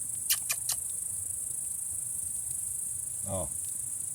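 Cicadas in Croatia keep up a loud, continuous high-pitched drone, with a few short clicks early on and a brief voice-like sound near the end.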